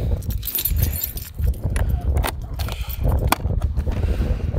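Motorcycle keys for a Suzuki V-Strom 250 jangle in a series of sharp metallic clinks and rattles, set against a steady low background hum during an oil change.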